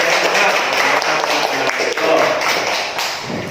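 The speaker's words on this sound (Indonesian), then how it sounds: "kiri tepuk tangan dulu" A primary school class claps hands together in a classroom, dense loud clapping mixed with chanting voices.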